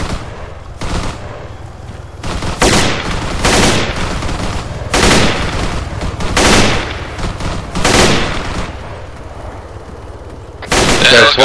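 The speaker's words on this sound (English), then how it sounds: "Small arms fire!" Sustained small-arms gunfire in an Arma 3 firefight, repeated bursts and single shots cracking close and loud across the whole stretch, with a heavier volley near the end.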